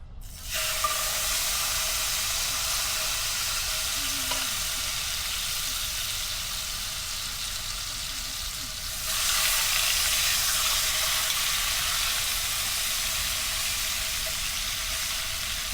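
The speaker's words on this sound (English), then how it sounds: "Just load the pork chops in." Thin pork chops frying in hot lard in a pan, a loud, steady sizzle and hiss that swells louder partway through as more meat hits the fat, with no voices.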